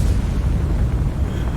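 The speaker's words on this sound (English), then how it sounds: "there was just a normal explosion of a compartment being destroyed" A compartment blowing up aboard a burning warship in a World War II naval combat game, heard as a dense, low, rumbling boom that roars steadily throughout with no voices.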